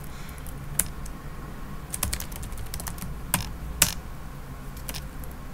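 Someone types a git clone command on a computer keyboard, producing quiet, close key clicks in an uneven rhythm with a few sharper, louder strikes.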